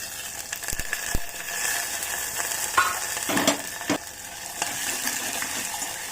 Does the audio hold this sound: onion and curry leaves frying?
yes